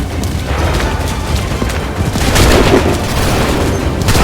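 Musket volley fire in the video game Assassin's Creed III, a loud sustained rumble of gunfire and booms with no clear separate shots, swelling louder in the second half.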